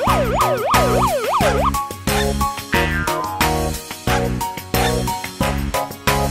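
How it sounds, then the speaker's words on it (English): A police car siren wails, sweeping up and down several times over a bouncy children's song, then the music carries on with bright beats. "Police car, police car."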